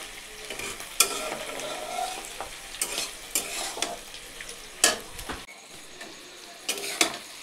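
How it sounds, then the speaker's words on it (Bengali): Chopped onion and capsicum fry in a pan for chilli chicken, a low sizzle broken by repeated sharp scrapes and clinks of a spatula stirring against the pan. "এখানে আমার ক্যাপসিকাম আর পেঁয়াজটা মোটামুটি ভাজাভাজি হয়ে গেছে।"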